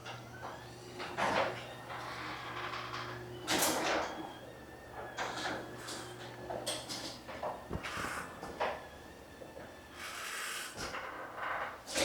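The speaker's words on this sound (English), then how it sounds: "But for this next bit, we can close the garage door." A garage door closes in a home garage workshop, giving a series of rattling, rolling knocks and clunks over a steady low hum, close by with no talk.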